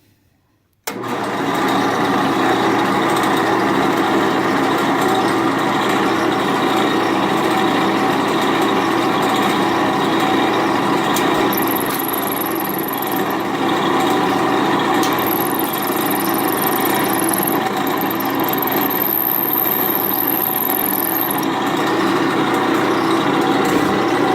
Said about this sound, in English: I'm going to go ahead and drill this hole